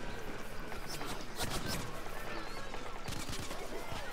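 Continuous gunfire from a Plants vs. Zombies: Garden Warfare match, a steady mid-level stream of shots with a few louder bursts, mixed with game music and effects throughout.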